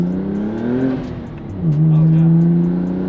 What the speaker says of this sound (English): I'm gonna do another little quick pull just to see what the air to fuel ratios are.